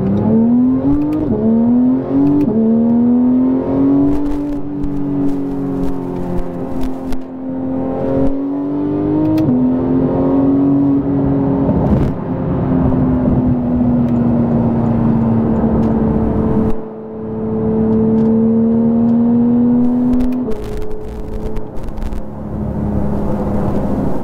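A Porsche 991.2 GT3 accelerates hard through its gears on a freeway, the engine note climbing loud and steady, then briefly dropping at each shift before rising again, heard from inside the car with no talking.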